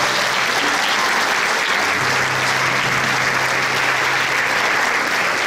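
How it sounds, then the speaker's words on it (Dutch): A large audience at a tribute show in Tegelen gives a thick, sustained roar of applause, loud and even from start to finish with no break and no talk over it. "En geef hem alsjeblieft een fantastisch applaus."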